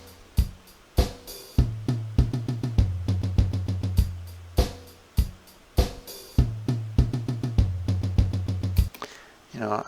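A programmed drum beat with punchy kicks and snares and a run of softer, quieter hi-hat ticks, steady and loud with no voices.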